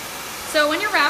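A hair dryer blows on a short haircut, switching on partway through in two brief close whooshing bursts after a quiet start.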